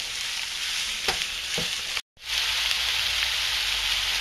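Fresh squash and peppers sizzle steadily in a hot pan for a Southwestern-style dish, a dense continuous frying hiss with two brief stirring clatters and a momentary cut to silence midway.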